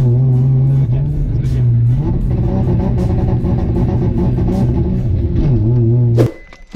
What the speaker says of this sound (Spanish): No sé si alcanzan a escuchar mi carro ya.